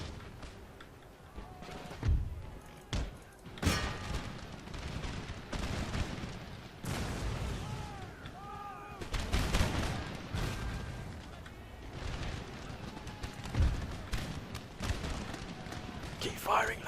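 Musket volleys and booming artillery fire from a Napoleonic-era battle in the video game Empire Total War crackle and thud in repeated bursts, with someone talking over the gunfire.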